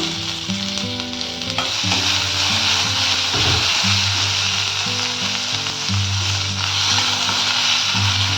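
Sesame seeds and chopped ajwain leaves fry in hot oil in a pan, giving a constant close sizzle with repeated scraping stirs and no talk.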